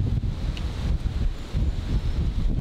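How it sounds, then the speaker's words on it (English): Strong wind buffets the microphone on an open golf course in Cornwall, a low rumbling roar that swells and dips continuously with no talk. "It's very, very windy at this part of the course."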